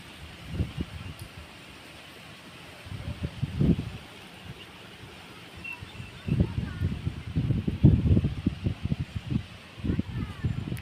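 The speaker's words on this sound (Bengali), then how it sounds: "আবার একটা হাওয়া এসেছে জোরে" Strong wind gusts buffet the microphone during a dusty storm near Dharapuram, Tamil Nadu, in deep, rumbling bursts that come in waves and build toward a sustained roar near the end.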